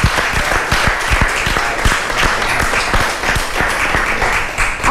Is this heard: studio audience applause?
yes